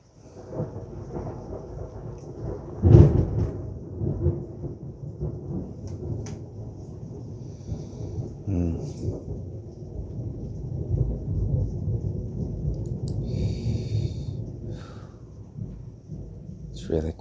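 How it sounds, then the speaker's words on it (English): Rolling thunder with steady rain through a storm, including a loud crack near the start, a long low rumble beneath, and soft indoor sounds and light movement on top. "It's really quite a storm out there."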